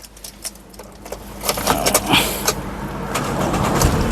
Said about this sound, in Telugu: ఈ కారు సింగిల్ సెల్ఫ్లో స్టార్ట్ అవుతుందా లేదా అన్న చూపిస్తున్నాను